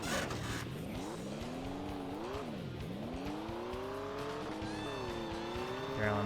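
Rally car engine in a PlayStation racing game, revving up and down in repeated sweeping pitch rises and falls with tire squeal, loud and continuous throughout.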